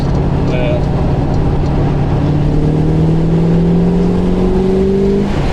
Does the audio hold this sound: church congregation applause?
no